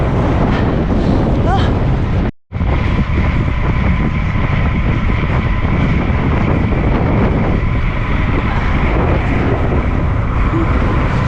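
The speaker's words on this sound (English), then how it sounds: "The turnaround at kilometer 52, the wind picked up big time." Strong wind roars loudly and steadily across the microphone during the bike leg of an Ironman race in the Philippines, a constant buffeting rush broken only by one brief dropout.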